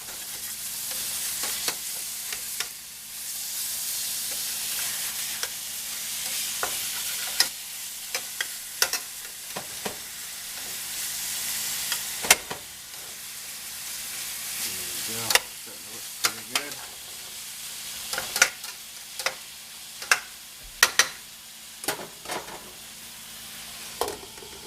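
Thick sirloin steaks fry in a pan with a continuous sizzle, broken by frequent sharp clinks and scrapes of a utensil as the meat is flipped and moved.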